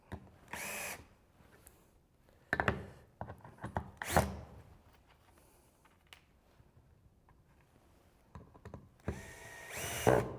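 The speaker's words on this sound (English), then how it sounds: "Now I don't want to drill into that" A power drill whirs in several short bursts, starting and stopping at irregular intervals, close by, with quiet gaps between.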